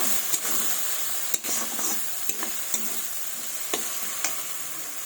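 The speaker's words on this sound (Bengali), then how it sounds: "এবার ধুয়ে রাখা সোনা মুগ ডালটাকে ছেড়ে দেবো, দিয়ে তাকে এভাবে ভেজে নেব।" Washed golden moong dal frying in ghee with bay leaves in a pan gives a steady close sizzle, broken by sharp scraping clicks as a spoon stirs it every second or so.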